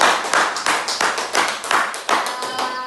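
A small group in a university class claps in steady rhythm for about three seconds, sharp repeated hand claps close to the listener, with no speech.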